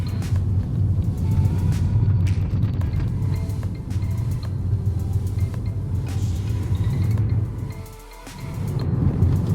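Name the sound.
Tesla Model S driving through tight turns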